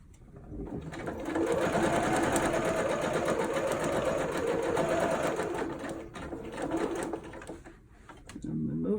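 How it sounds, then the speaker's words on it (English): Sewing machine stitching a straight line along a dart in dress fabric, a steady close whirring hum that runs for several seconds and then slows and stops. "And put the needle down in the fabric, sew a straight line right along the dart marking."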